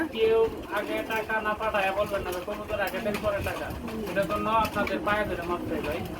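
Pigeons coo repeatedly at close range, soft throaty calls that overlap, while a person talks over them.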